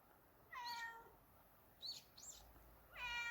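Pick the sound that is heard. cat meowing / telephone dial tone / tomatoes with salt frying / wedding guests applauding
cat meowing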